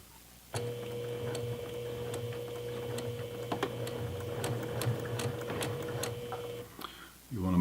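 A domestic sewing machine runs a short burst to tack down a missed stitch at the edge of fabric, a steady close whirring with rapid ticking clicks, stopping near the end just before a brief rustle.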